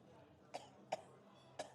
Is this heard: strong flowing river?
no